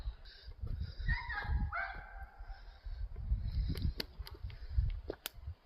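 A dog barks and yips a few times at a moderate distance along a haunted walkthrough attraction, over low rumbling background noise and faint voices.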